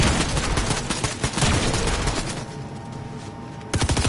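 Rapid bursts of gunfire in Fortnite, dense repeated shots through most of the stretch, a brief lull, then a fresh loud volley at the end.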